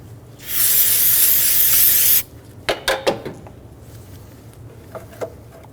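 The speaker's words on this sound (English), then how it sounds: "Using a rag and parts cleaner, we're going to go through and clean the channel on the valve cover." Aerosol parts cleaner sprayed onto the valve cover of a 2007-2011 Toyota Camry 2.4L: one loud, steady close hiss lasting about two seconds, then a few sharp clicks and taps of handling.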